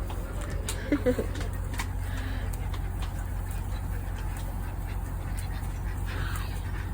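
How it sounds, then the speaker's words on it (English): Ducks quack a few times at a wildlife park, brief calls heard under a constant low hum and outdoor background noise, with a person speaking nearby. "Got some more ducks coming over as well."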